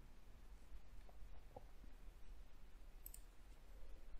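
A computer mouse clicks while a SolidWorks CAD model is drawn: a few faint, sparse ticks over a steady background hiss, with no talking.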